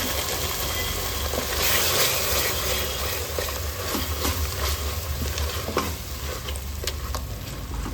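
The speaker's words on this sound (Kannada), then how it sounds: "ಎಲ್ಲವೂ ನೀಟಾಗಿ ಫ್ರೈ ಆದಮೇಲೆ ನಾವು ರುಬ್ಬಿಟ್ಕೊಂಡ ಮಸಾಲೆನ ಸೇರಿಸ್ಕೊಂಡು ಫ್ರೈ ಮಾಡ್ಕೋಬೇಕು" Ground masala paste fries and is stirred in a pan for spicy mutton curry, giving a steady close sizzle with scraping spoon strokes and occasional clinks throughout, no voices.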